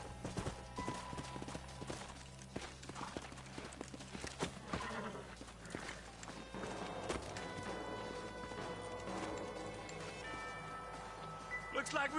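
Horse hooves clip-clop steadily in the Red Dead Redemption video game, a continuous trotting rhythm with other in-game sounds layered over it.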